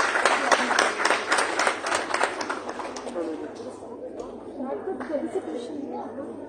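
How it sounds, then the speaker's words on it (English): An audience applauds a Bharatanatyam dance performance with steady, dense clapping that gradually thins and softens toward the end, with faint chatter underneath. "Let's have a huge round of applause for Ms. Ragini Chandershekhar"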